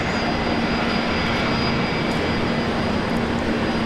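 Virgin Australia Fokker airliner operated by Alliance Airlines at Brisbane Airport: a continuous loud, broadband jet engine roar with a steady whine, heard alone without talk.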